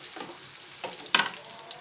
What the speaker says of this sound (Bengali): আমরা 5 থেকে 7 মিনিট অপেক্ষা করছি চিকেনগুলো ভালো মতো ভাজা হওয়ার জন্য